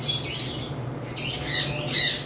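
An albino lovebird breeding pair in a cage at a bird sale, calling in harsh, shrill squawks and chirps that come in several short bursts, close and fairly loud, with no talk.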